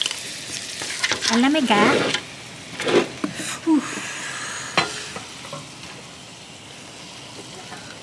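Steak frying in butter and olive oil in a home kitchen, with a loud crackling sizzle in bursts as it is moved in the pan, then a softer steady hiss; a voice speaks briefly.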